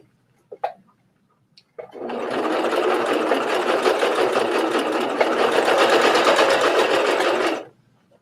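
A sewing machine stitching fabric for a trench coat runs in one continuous, loud, rapid mechanical whir for about six seconds, preceded by a couple of small clicks and ending abruptly.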